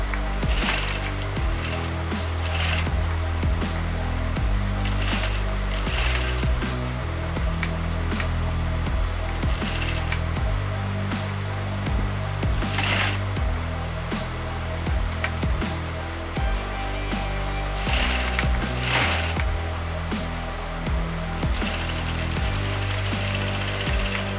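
A sewing machine runs steadily as it stitches piping across a blouse panel, producing a continuous mechanical whirring and clattering at close range that carries on without pause and without any talking.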